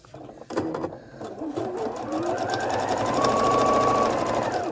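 A sewing machine runs steadily, sewing quilt pieces with a quarter-inch seam, its motor hum rising and holding loud and close after a few brief starts.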